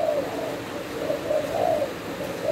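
Thai doves, adult breeding birds, cooing in repeated soft rounded calls, close and steady with no talk.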